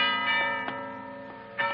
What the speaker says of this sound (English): The monastery bell is ringing.